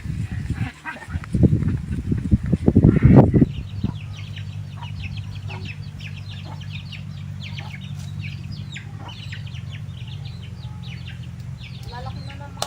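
Chickens cluck in short, scattered bursts over a steady low hum, with louder thumping activity at the start before settling into continuous background clucking.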